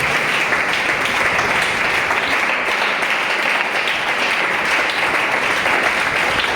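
A church congregation applauding together in praise: dense, loud, sustained clapping for several seconds with no pause.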